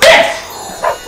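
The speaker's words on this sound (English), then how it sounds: "That's my dog, Lino." A dog gives two short, loud barks close by, the second one softer, with no talking around them.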